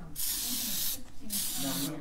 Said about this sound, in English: Spray it first.